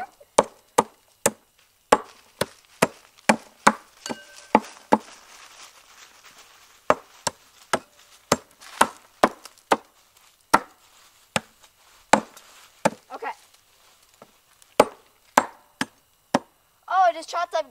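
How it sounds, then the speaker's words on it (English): Machete chopping up Grinch stuff in sharp, loud, irregular thwacks spread over about eighteen seconds, close up, with brief quiet gaps and some faint rustling. "The chopping's scaring her."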